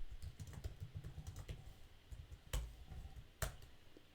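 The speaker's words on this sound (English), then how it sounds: "I'll just type it in" Typing on a computer keyboard, a fast run of light close clicks with a couple of sharper, louder key strikes toward the end.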